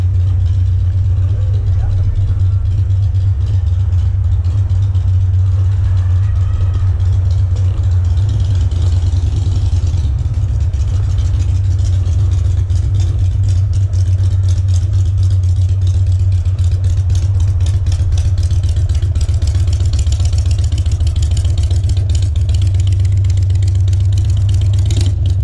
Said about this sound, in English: the bike's idling up here.